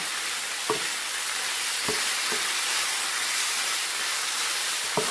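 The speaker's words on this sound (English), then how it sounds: "Saute the pepper, onion, and the potato." Pepper, onion and potato sauté in a hot pan with a constant steady sizzle, broken by a few soft clicks of stirring, close and uninterrupted by speech.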